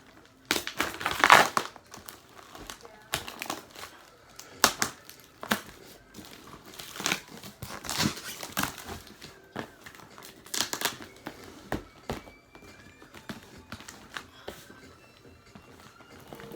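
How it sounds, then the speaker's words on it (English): Taped-up cardboard shipping box being torn open, with repeated crunching, crinkling and ripping bursts at close range and short pauses between them, with no talking. "I done opened up one layer and I have another box to open up."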